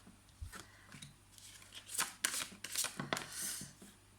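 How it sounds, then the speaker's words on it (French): Tarot cards being shuffled and drawn close by, with soft riffling flicks and slides in irregular bursts that grow busier toward the end, no talk. "on va essayer de tirer toutes les cartes"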